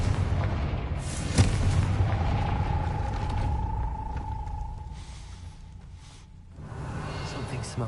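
Confringo blasting spell in the Hogwarts Legacy video game, a sharp boom near the start followed by rumbling, creaking mechanical noise and a sustained tone that fades before the rumble picks up again.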